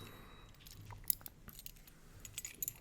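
A bunch of keys jangles right up against the microphone, a few light metallic clinks and rattles scattered across a quiet stretch with no speech.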